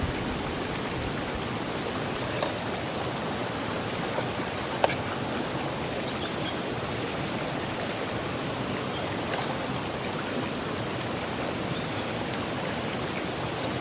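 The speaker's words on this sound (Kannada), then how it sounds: "ಲೈಟಾಗಿ ಮಳೆ ಬರ್ತಾಯಿದೆ, ನದಿ ನೀರು ಸೌಂಡು" Light rain falling beside flowing river water, a continuous even wash of broadband rushing noise with a few faint drips and ticks, steady and close throughout.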